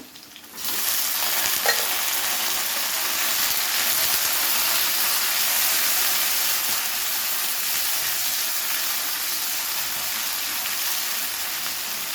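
Garlic, green chillies, cashews and tomato frying together in a pan, a loud, dense, continuous sizzle that starts abruptly and holds steady to the end with no voices.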